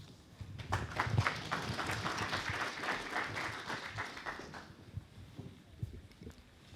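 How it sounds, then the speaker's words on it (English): Applause from a seated audience at a Muslim community awards event at East London Mosque, a fairly faint, rolling patter of many hands that swells briefly and then thins out toward the end. "Round of applause."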